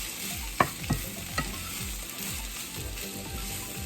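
Spinach sautéing in a pan with butter, a steady close sizzle under repeated stirring scrapes, with a few sharp utensil clicks near the start.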